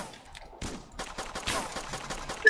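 Pistol gunfire in a video game crackles as a rapid string of sharp shots, with dense clustered bursts in the middle and a louder crack near the end.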